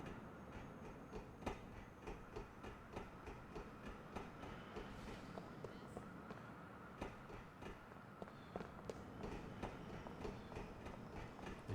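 A train in Grand Theft Auto 4 rolls steadily along the rails, its continuous rumble broken by regular clickety-clack beats from the wheels, heard close and alone without any voices.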